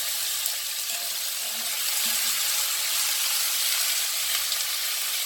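Cauliflower and beans hit a hot pan for a chicken stew and sizzle steadily, a bright continuous hiss of frying with faint stirring clatter, close by and without talk.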